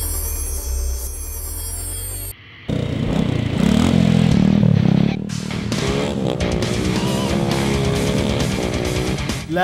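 A stunt motorcycle revs hard and loud, its engine roaring continuously with clattering and scraping noise during moto stunt riding.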